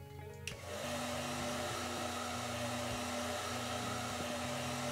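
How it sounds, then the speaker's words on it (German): Steady electric whir of a hair dryer in the video game Animal Shelter, used on a wet dog. It switches on after a brief burst of clatter and runs loud and continuous to the end, with a constant hum beneath a breathy rush. "nehmen wir mal den Föhn"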